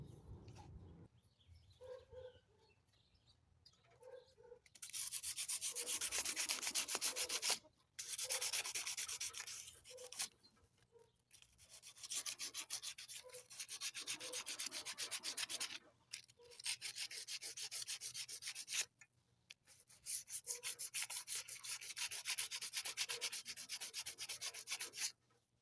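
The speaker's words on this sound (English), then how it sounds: "Let me get some sandpaper and try to clean that up a little bit." Sandpaper scrubs rust off a vintage lawnmower flywheel in repeated long bursts of harsh, gritty rubbing, several seconds each, separated by short pauses, close and fairly loud with no voices.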